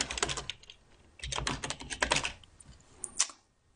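Fingers tap on a computer keyboard in short bursts of quick clicks, with brief pauses between the runs of keystrokes, close up in a quiet room.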